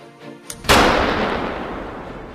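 A Bangalore-style explosive breaching charge goes off during army sapper training with paratroopers: a single sharp, loud blast after brief quiet and a small pop, followed by a long rumbling decay.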